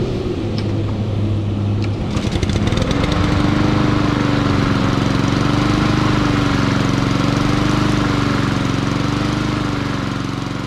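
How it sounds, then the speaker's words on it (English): Lawn mower engine running after a Sea Foam carburetor soak, a loud steady close drone that catches after a sputtering start and settles into a wavering idle. "it's time to start the mower."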